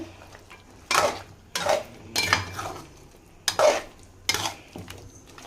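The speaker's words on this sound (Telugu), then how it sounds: "ఇప్పుడైతే బాగా కలిపెట్టుకుందాం" Spoon scraping and clanking through chilli chicken masala in a metal pan, several separate bursts of stirring spaced a second or so apart, close and fairly quiet.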